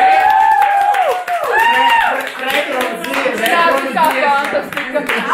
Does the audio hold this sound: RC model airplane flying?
no